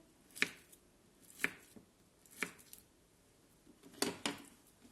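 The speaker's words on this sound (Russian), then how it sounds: "Нарезаем на такие кубички небольшие" A knife chops food into small cubes on a board: five sharp taps at steady intervals, the last a quick double, close and fairly quiet.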